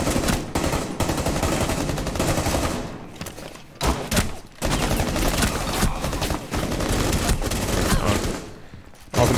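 Rainbow Six Siege gameplay brings loud, sustained bursts of automatic gunfire, close and dense, with only brief gaps between volleys.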